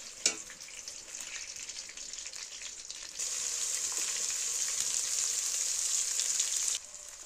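Chili paste and mustard oil fry in a pan for a pickle, giving a steady bright sizzle with a sharp spatter at the start that swells louder midway and holds, with no talking.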